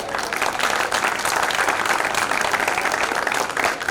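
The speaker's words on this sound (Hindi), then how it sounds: "अभिषेक जी के हिस्से की तालियां वापस कर दी जाए" Audience at a Hindi poetry recital breaks into steady, dense applause, a continuous wash of many hands clapping at close range with no pauses.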